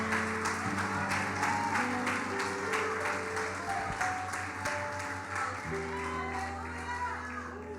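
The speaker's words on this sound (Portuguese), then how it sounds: "Será que tem alguém aqui que pode aplaudir a Jesus?" A church congregation at a conference applauds, steady rhythmic clapping over sustained organ or keyboard chords, moderately loud and continuous throughout.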